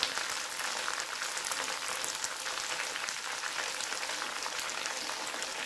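Milk cream and wheat flour sizzle steadily in a pan as they cook down into desi ghee, a dense, continuous crackle like light rain with no voices over it.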